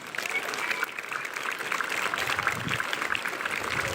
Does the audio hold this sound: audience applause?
yes